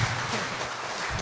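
Short burst of even, mid-distance clapping from an audience at a high-performance computing school session, dense and uniform without voices.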